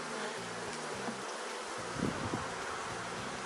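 Honeybees hum steadily around an open hive during a routine colony inspection, a continuous close buzz with small swells in loudness and no talking.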